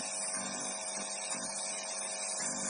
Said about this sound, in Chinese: 现在真空泵已经开始出气了。